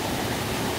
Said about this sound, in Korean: 폭포가 또 있습니다.